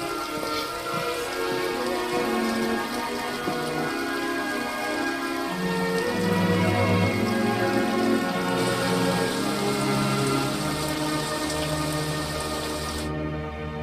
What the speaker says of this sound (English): It appears that the rain is a worldwide phenomenon, dousing the fires that have overwhelmed our emergency personnel